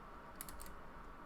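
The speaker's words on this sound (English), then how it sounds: "We're typing in here." A short burst of a few quick, faint keystrokes on a computer keyboard over a low background hum, with no talking.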